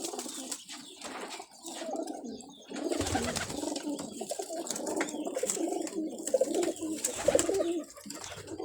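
Pigeons of several breeds coo steadily in a loft, soft throaty calls overlapping one another, with a rustle of wings and birds shuffling nearby and no talking.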